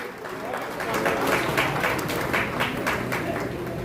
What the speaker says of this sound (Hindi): उनके स्वागत के लिए मैं ताली बजाती है भैया पूजा शर्मा जी के लिए